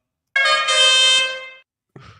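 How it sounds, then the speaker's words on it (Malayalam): A vehicle horn blares once in a single sustained, loud, close honk of a bit over a second, followed by brief faint noise. "ഞാൻ ഈ ആദ്യമായിട്ട് ഈ ഹോൺ കേൾക്കണത് പുള്ളിയുടെ വണ്ടിയില്ല"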